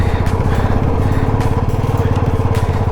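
Motorcycle engine laboring up a hill road near Mussoorie in the monsoon, a loud, close, pulsing engine note with rapid regular firing throbs, steady and unbroken for the whole stretch.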